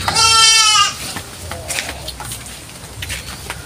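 A goat bleats loudly and close for about a second, a wavering, harmonic cry, followed by quieter rustling and faint background noise.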